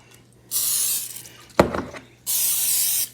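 Non-stick cooking spray hisses out in two steady, close bursts separated by a sharp clack, as if the can or pan is being handled.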